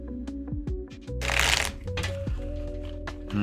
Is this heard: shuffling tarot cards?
yes